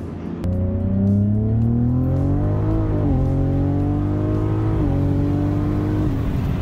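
A car engine revving hard with its exhaust valves open, a loud, close, throaty drone that surges and dips in pitch several times after a sharp start, with no speech over it.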